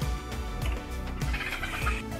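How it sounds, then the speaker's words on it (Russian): Curly-feathered chickens in a park give repeated, pulsing low calls at close range, a throaty rhythmic clucking with no voices over it. "Курчавые куры."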